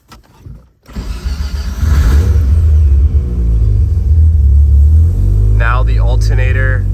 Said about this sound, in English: Whenever you start up the car